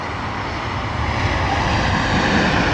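Delta Airbus A330-900 jet airliner in Team USA livery at London Heathrow, a loud, steady engine roar close by, building slightly over the short stretch.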